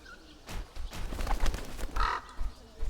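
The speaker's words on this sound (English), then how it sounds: "Blasted crows." Crows caw repeatedly in the Dark Eye 2: Memoria video game, a run of harsh, loud calls that overlap and carry on for the whole stretch with no talk over them.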